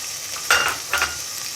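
Fried onions are stirred into a pot of dhaba-style chana dal, two quick scraping stirs over a low steady sizzle.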